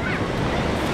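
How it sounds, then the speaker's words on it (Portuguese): Ocean waves surging and breaking at Praia Grande beach in Arraial do Cabo, a loud, continuous rushing wash of surf close by, mixed with wind buffeting the microphone. "pode ser que essas ondas aqui estejam subindo por conta da maré"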